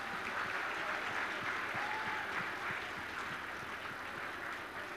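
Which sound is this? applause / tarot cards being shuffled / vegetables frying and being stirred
applause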